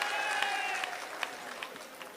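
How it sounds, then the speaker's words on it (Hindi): Sustained audience applause at a Hindi hasya kavi sammelan: dense, even crowd clapping that holds steady and fairly loud for its full length, with a few sharper individual claps standing out. "चलो छोड़ो, एक बार जोरदार ताली बजाओ"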